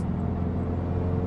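A car rolls along an ordinary road at regular speed, not a highway, giving a steady close interior rumble of engine and tyres with no talk.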